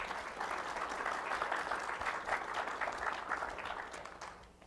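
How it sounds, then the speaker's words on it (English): A church congregation applauds graduates during a Sunday morning service, a steady wash of many hands clapping that holds evenly and starts to thin near the end. "Let's give one more just shout of congratulations and applause for our graduates this morning"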